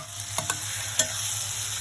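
Onions frying in a pan for pumpkin kofta curry, a steady soft sizzle with a few brief utensil clinks or stirring knocks over it, close and moderately loud with no talking.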